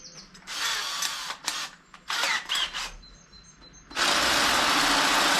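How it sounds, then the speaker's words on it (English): Drill working a hole in metal with a larger bit before tapping M10, heard as several grinding mechanical bursts followed by a louder continuous whir at the end. "Just put a bigger drill in to start with"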